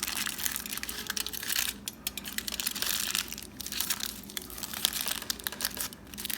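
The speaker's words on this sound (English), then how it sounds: "foil to wrap up the package. Okay. Tuck that in and then fold it up nicely." Aluminium foil crinkling and crushing as a ducana package is wrapped and folded, a close, continuous rustle of irregular crackles and crumples with brief quieter gaps.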